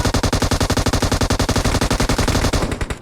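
Sustained automatic gunfire from PUBG Mobile, a rapid, steady stream of loud close shots lasting nearly the whole moment before tapering off at the end.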